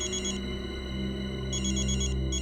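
A telephone rings in short electronic bursts, with two ring pulses separated by a pause, over a steady background hum while an ambulance is being called.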